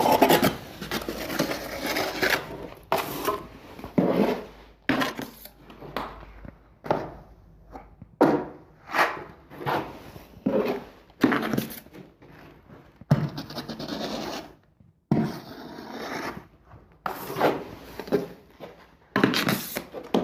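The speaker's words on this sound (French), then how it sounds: "maintenant je vais charger la bande, donc c'est-à-dire mettre une couche régulière de 1 cm" A plasterer's trowel rasps and scrapes as an even 1 cm layer of plaster is spread onto a drywall joint band, with repeated short strokes in an irregular rhythm, close and fairly loud, with no talk.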